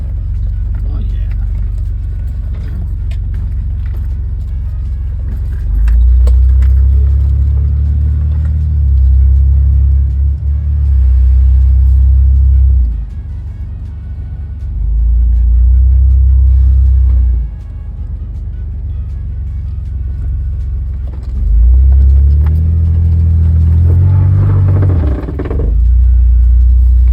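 A third-generation Toyota 4Runner on a test drive, its engine rumbling heavily from inside the cabin and swelling in repeated surges as it accelerates, loud and low, with road noise throughout and no talking.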